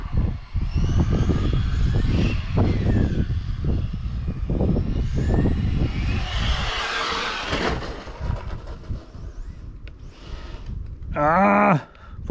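A Subaru car engine roars loudly and continuously, then the throttle is lifted and the sound falls away into quieter rumbling and clatter, with people talking over it.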